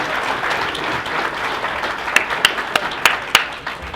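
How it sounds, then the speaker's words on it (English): Audience applause at a community talk on data centers in rural Texas: a steady wash of clapping from a crowd, with several sharper, louder individual claps standing out near the end. "One more round of applause for Mr. Miller, please."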